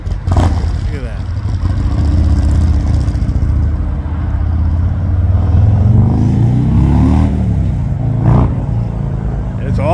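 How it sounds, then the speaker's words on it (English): A Harley-Davidson Street Bob motorcycle rumbles close by with a deep, loud exhaust, rising in a few revs while people talk over it. "All about that exhaust note."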